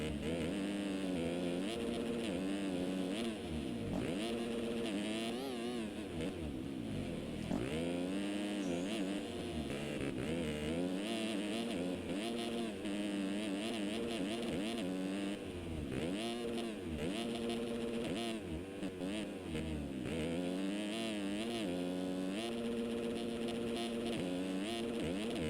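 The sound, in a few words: 250 motocross bikes racing at full throttle, from video game MX Simulator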